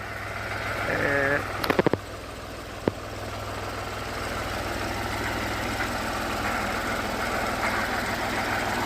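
A low, steady tractor engine rumble runs throughout at moderate level in a flooded village, with a couple of sharp clicks early on and voices talking briefly over it.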